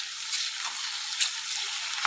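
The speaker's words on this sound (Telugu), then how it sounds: "ఇప్పుడు అల్లం పేస్ట్ కూడా మంచిగా ఫ్రై అయింది." Ginger paste frying in a pan gives a steady, bright sizzle with a few louder crackling spurts, close and continuous with no talking.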